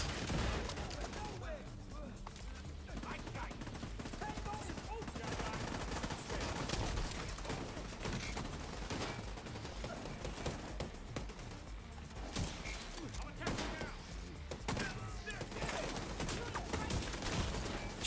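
Double turrets firing in The Division 2 video game, a continuous dense barrage of rapid gunfire and impacts that stays loud throughout, mixed with game effects.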